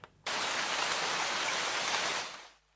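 Heavy rainy-season downpour roars in a steady, dense hiss that starts abruptly, holds loud and even for a couple of seconds, then fades out.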